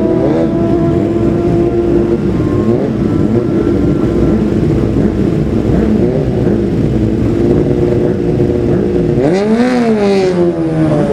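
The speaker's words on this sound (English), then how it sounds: "Number 15, Jamie Coward on his Kawasaki." A Kawasaki superbike in the Classic TT superbike race screams close by on the road, its engine note rising and falling through repeated gear changes before swelling sharply near the end.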